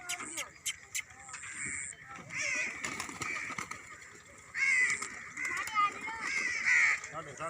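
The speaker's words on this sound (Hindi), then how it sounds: "इस टाइम कबूतरों को दाना डाला जा रहा है" Pigeons being fed grain and other birds call and flutter nearby in short bursts, with people talking in the background in a village.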